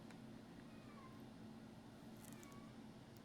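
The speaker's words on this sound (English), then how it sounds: "if you hear a cat crying, that's just Beans" A pet cat named Beans, left lonely at midday, lets out two faint, distant meows over a steady low room hum.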